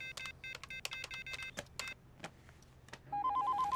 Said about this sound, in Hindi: वेदांत जी, फोन लगाओ।